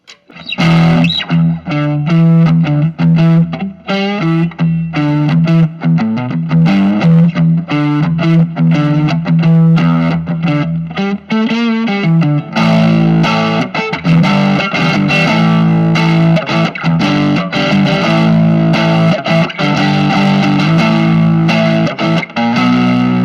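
Electric guitar through a Vox AC10C1 combo amp on a crunchy, lightly distorted setting, playing sustained chords and riffs with busier strummed passages later, loud and close, with no voices.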